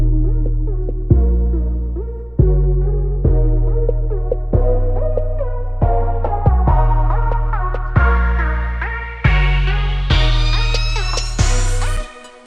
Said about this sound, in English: It's my Karma Effects low pass filter I put on the master channel